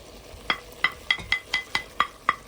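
A spoon scrapes repeatedly against a pan as dry spices are stirred into sizzling duck bhuna, eight crisp metallic strokes in an even rhythm over a soft frying hiss.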